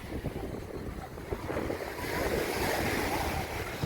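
Sea surf rolls onto a crowded swimming beach near Vladivostok, a steady broad wash of breaking waves with wind buffeting the microphone, swelling louder in the second half.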